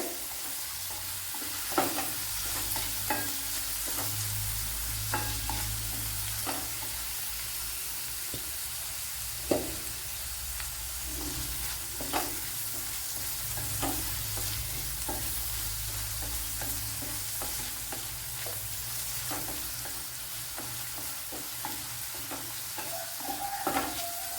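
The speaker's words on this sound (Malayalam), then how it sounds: "നമ്മുടെ കൊച്ചുള്ളിയൊക്കെ ഇവിടെ വഴണ്ട് വന്നിട്ടുണ്ട്." Crushed shallots and curry leaves sautéing in a pan, a steady, moderately loud sizzle with scattered clicks and scrapes of stirring throughout, and no one speaking.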